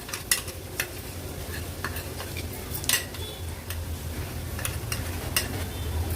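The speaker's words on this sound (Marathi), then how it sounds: "आता जे वाटण मी तुम्हाला दाखवलेलं हे बघा मिक्सरला फिरवून घेतले हे वाटण आपण ऍड करूया" Ground masala paste sizzles as it is stirred into mutton cooking in an Agri Koli–style pan, a steady close frying hiss broken by several sharp scraping and clinking hits of a spoon against the pot.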